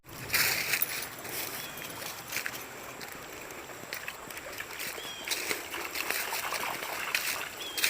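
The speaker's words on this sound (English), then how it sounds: "Alright, I'm gonna filter some water" Water trickles and splashes steadily outdoors beside a stream in Mohican State Park while water is being filtered on a solo backpacking trip, a continuous bright running-water wash with no talking.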